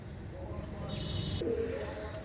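Pigeons of the Sialkoti and Teddy breeds give a brief, low cooing over a busy background hum, with faint chirps and a short bright tone passing through.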